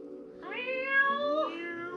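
A cat meows in one long, drawn-out call that rises and then falls, clear and close, with a faint steady hum underneath.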